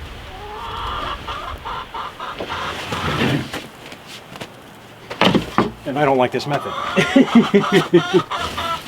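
Chickens cluck and squawk repeatedly close by in a coop in Alaska while a person talks over them; the bird calls grow busier and louder in the second half.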